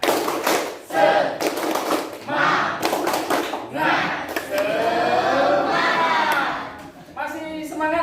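Schoolchildren in a classroom clap a short rhythmic pattern of quick bursts and pauses, then join in a loud group chant, with the clapping and voices overlapping up close.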